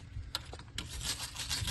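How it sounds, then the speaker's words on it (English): Scraping rust and brake dust off the front brake disc of a SEAT Ibiza 6J MK4, a few short rasping scrapes up close followed by a longer continuous grinding rub. "Scrape all the rust."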